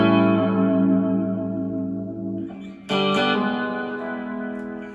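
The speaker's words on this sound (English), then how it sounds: "this is a real common Stratocaster tone" Squier Stratocaster electric guitar playing a common Stratocaster tone, a sustained strummed chord ringing out with effects-laden shimmer, then a fresh strum that rings on, loud and up close with no talk.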